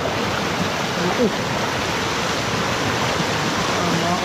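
Fast-flowing water rushing steadily through a rice paddy, a continuous broadband roar like a stream, with a brief voice heard over it.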